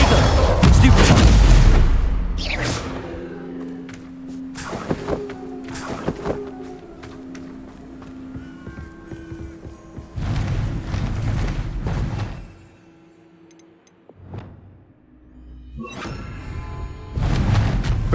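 Spell blasts from Confringo and Bombarda cast in the Hogwarts Legacy video game, a heavy booming burst followed by several sharp thumping impacts over game music and effects, with brief quieter gaps.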